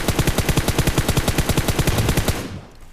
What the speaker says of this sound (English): this is for the purpose of showing you guys recoil control and going full auto